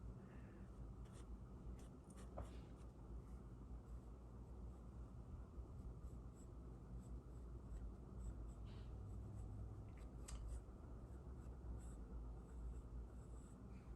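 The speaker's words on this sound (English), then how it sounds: "I'm gonna just sketch it in because it might not be exactly there." A pencil sketching a skeleton figure on paper, giving a steady, soft, continuous scratching of strokes with no talking.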